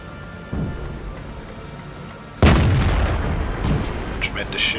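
A Tier 2 FTAC tank destroyer fires its gun in World of Tanks, one loud broadband boom followed by a rumbling tail and a few softer distant shots over low battlefield ambience.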